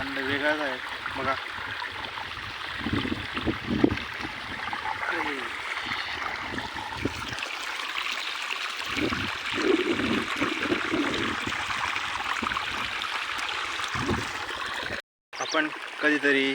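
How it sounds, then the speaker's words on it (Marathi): Water runs into a farm field to irrigate it, a steady near rush and gurgle that lasts throughout, with someone talking over it at intervals. "तिकडं पण पाणी भरणं चालू आहे."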